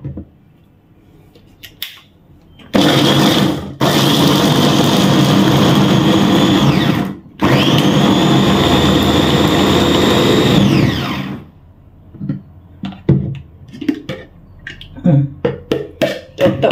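Electric food chopper whirring loudly in two long bursts while chopping sambal ingredients for crispy fried petai sambal, followed by scattered clacks and knocks from the machine.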